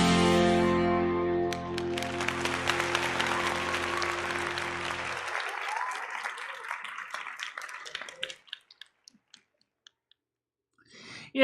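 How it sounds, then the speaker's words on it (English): Recorded applause and cheering played into a live stream, a dense burst of clapping that fades out over several seconds, leaving scattered clicks near the end. "then you do the applause"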